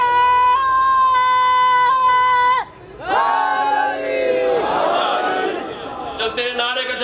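An audience at a majlis for Syeda Fatima's martyrdom chants a religious slogan, a loud crowd roar that rises after a brief pause and carries on over sustained harmonic drone.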